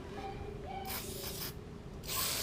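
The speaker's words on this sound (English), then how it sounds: "Spray some lube in there" Short hissing bursts of spray lube hit a corroded wheel bearing on a 2006-2012 Toyota Camry or Avalon, two quiet spurts close to the microphone with faint mechanical rubbing between.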